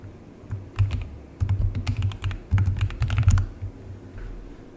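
Rapid clicking keystrokes come from a mechanical keyboard fitted with dampening O-rings, typed in short bursts close up with pauses between them.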